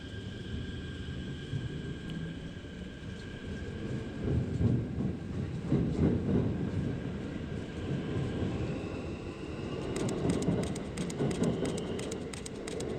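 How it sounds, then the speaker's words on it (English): A long train rumbles past steadily in Yokosuka, Japan, with a continuous low roar and rhythmic clatter of wheels growing sharper toward the end. "It's a long train."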